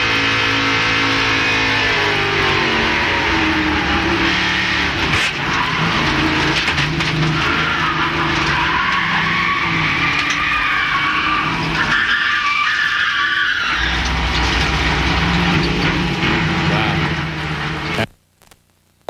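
Inside a NASCAR race car at the 1998 Touchstone Energy 300, the engine roars and shifts pitch as tires skid and the car slides toward a crash, loud and close throughout.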